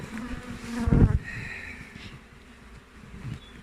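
Honeybees buzz around an open hive under inspection, a close droning hum that swells loudly for a moment as bees pass near, then settles into a softer background buzz.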